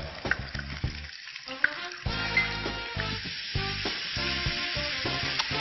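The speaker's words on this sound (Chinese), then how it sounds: "先把蒜味给炒出来，然后呢，再把肉片倒进来" Garlic and sliced pork stir-fried in a wok, crackling sizzle broken by repeated scraping and clanking strokes of a spatula against the metal, close and busy, without talk.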